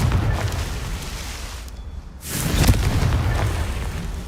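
A Confringo blasting spell from Hogwarts Legacy erupts in a loud, booming explosion after a brief drop, with a rumbling burst carrying through the rest of the moment, no talk over it.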